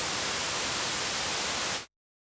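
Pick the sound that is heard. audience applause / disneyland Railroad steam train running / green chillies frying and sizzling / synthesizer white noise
synthesizer white noise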